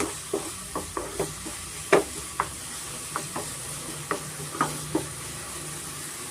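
Onions fry with spices in a pan for egg pepper fry, a soft steady sizzle punctuated by a series of sharp spatula taps and scrapes at an uneven rhythm, close and fairly quiet, with no talking.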